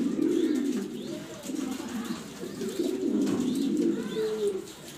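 Blue racing pigeons coo repeatedly at close range, with low rolling calls overlapping in a steady cluster and no speech over them.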